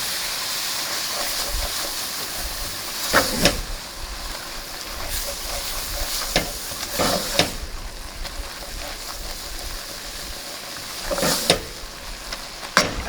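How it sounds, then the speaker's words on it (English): A no-oil mushroom gravy simmers in a pan, giving a continuous close hiss that swells into several louder bubbling, steamy bursts spaced a few seconds apart, with no talking. "I'm just going to simmer this just for a second."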